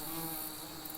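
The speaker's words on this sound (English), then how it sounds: "Checking the wasps going in." Yellow jacket wasps drone in a continuous, even buzz at the nest entrance, heard up close and quiet with no talking.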